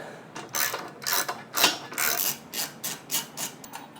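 A 13 mm ratchet wrench works the trailer hitch bolts on a 2015 Volkswagen Golf Sportwagen, giving rhythmic bursts of close, crisp clicking strokes with short pauses and no talk.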